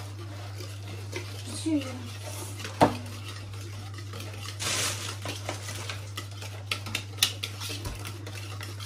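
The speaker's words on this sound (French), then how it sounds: "Maintenant, donc, on a mis les œufs. On va mélanger un peu." Eggs being stirred into yogurt cake batter in a bowl, with light irregular clinks and taps of a utensil against the bowl, one sharper knock, and a steady hum underneath while people talk.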